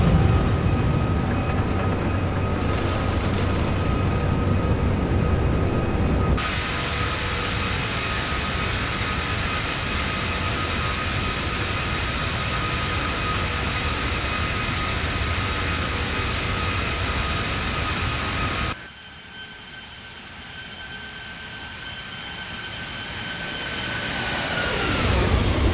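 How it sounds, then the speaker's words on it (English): Airbus A340-600 engines in the X-Plane 12 flight simulator roar steadily and loudly, the tone shifting abruptly twice as the camera view changes, then swelling toward the end, with no talk. "Those engine sounds, folks, are just amazing."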